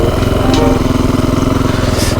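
A new Japanese enduro motorcycle idling up close, its engine giving a steady, loud, rhythmic thrum with no revving.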